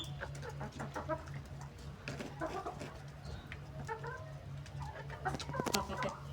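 Chickens cluck in a backyard flock, with scattered short calls close by at moderate volume over a steady low hum.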